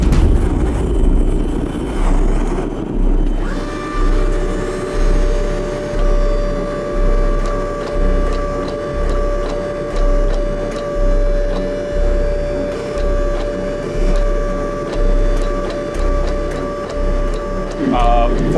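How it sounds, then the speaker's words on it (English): A 60-ton power press forges the tapered legs of steel blacksmith calipers, its hydraulic motor humming steadily while loud rhythmic pressing strokes pulse about once a second. "Forging down the tapers to the legs right now, just kind of getting the broad strokes put in with the 60 ton just to speed things along"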